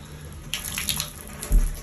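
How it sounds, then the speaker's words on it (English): Water runs from a tap in a Paris bathroom, a soft steady hiss that swells as the flow starts, followed by a louder splash and gurgle near the end. "We'll run water here."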